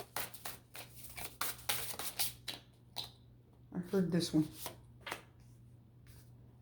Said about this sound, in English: We'll go ahead and shuffle this one and take the cards out first.